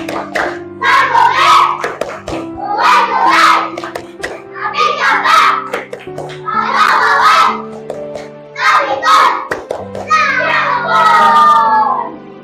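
Classroom of young schoolchildren performing the tepuk panggung chant: rhythmic bursts of group clapping alternating with shouted chanted words, repeated in about six loud phrases over a steady hum.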